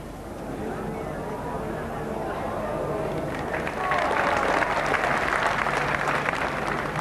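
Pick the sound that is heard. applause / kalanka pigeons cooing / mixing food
applause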